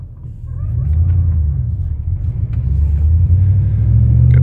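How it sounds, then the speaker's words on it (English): Low, steady engine rumble from a 1999 Ford F150 pickup truck as it pulls away and drives, close and continuous, with nobody talking. "I'll start driving it a little bit."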